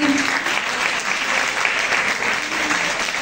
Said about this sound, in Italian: a cui vorrei fare un applauso ragazzi